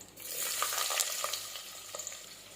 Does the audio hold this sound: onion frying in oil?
yes